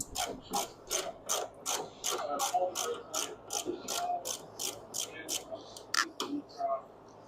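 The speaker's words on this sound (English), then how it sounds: "we'll take off this bolt now" A hand ratchet clicks in quick, evenly spaced bursts while loosening a bolt on a 1967 Firebird/Camaro during door and window weatherstrip work, close and moderately quiet, with faint voice traces underneath.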